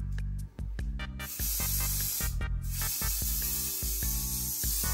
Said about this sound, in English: The hairspray will give it a little bit of life.